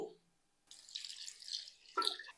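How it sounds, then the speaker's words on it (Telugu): Water is poured into a jar of curry leaves: a short, close splashing gush that starts after a brief pause and runs for under two seconds, ending in a slightly brighter splash. "ఇందులో వాటర్ యాడ్ చేస్తున్నాను"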